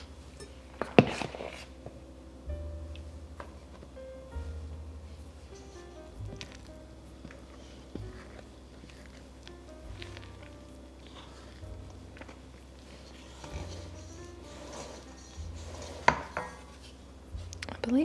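Sticky bread dough stirred in a bowl for classic Southern white bread, a steady run of soft, wet thuds and knocks with a few sharper clacks against the bowl, close and quiet, with a low hum underneath.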